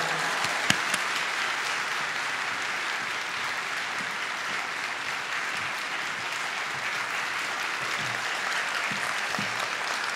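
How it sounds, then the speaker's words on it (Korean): A congregation at a Korean church afternoon service welcomes a visiting pastor with ten seconds of dense, steady applause. The clapping is even and sustained, and little speech is heard over it. "우리 할렐루야 박수로 함께 환영하겠습니다."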